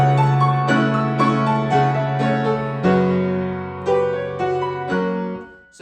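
Solo piano plays an arrangement of a song from Inuyasha: sustained bass notes under rolling right-hand arpeggios, several ringing chords struck one after another, close and clear, fading at the end.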